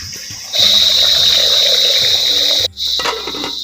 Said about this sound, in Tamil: தேவையான அளவு தண்ணி ஊற்றிக்கிறோம்